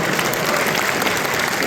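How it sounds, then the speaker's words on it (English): Dense, steady audience applause fills a hall at a live evening event with a UFC lightweight champion in Chicago, close and loud throughout the short burst. "Oh my God, give a round of applause, guys."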